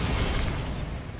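A Bombarda blasting spell explodes in Hogwarts Legacy, a single dense burst of noise that fills the sound and then thins out over about a second, heard alone.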